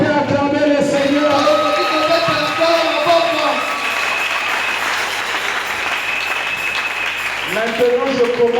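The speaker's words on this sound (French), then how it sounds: "Est-ce qu'on peut acclamer le Seigneur?" A church congregation claps and cheers for the Lord during a French-language service, with sustained loud applause mixed with voices, dying down near the end as a speaker resumes.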